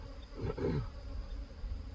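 Honeybees crowded in a three-frame mating nuc in a beeyard give a steady, close buzzing drone, with a brief louder swell near the middle.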